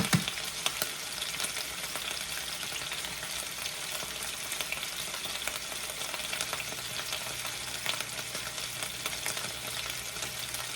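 Pork chops sizzle in a skillet with a steady, crackling hiss of frying fat that runs unbroken throughout at a moderate, close level.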